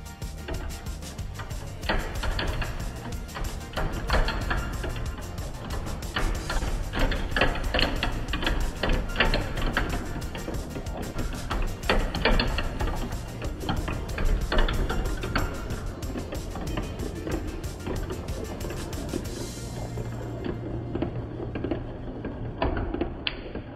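Marbles roll and clatter down a Hubelino marble run toy for an Octonauts-themed build, a busy, continuous stream of small plastic ticks and rattles that runs steadily for over twenty seconds before fading out near the end.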